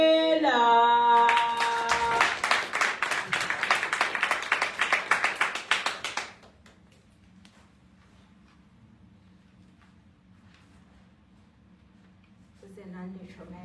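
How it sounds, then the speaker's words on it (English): Applause for a poet at a live poetry slam show: a dense, loud burst of clapping over the first six seconds with a voice at the start, then it cuts off to quiet room tone and murmuring before a voice returns near the end. "a round of applause for"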